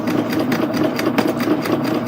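A serger stitches a 4-thread rolled hem with a fast, steady mechanical whirr and rhythmic chatter, running alone at close range for a couple of seconds.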